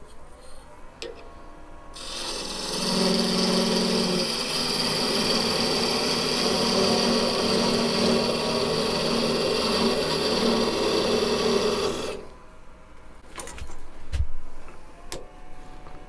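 A wood lathe spins a wooden blank while a tool cuts away its corners, a loud continuous rasping whir for about ten seconds that begins and stops abruptly, with quieter workshop handling noise before and after.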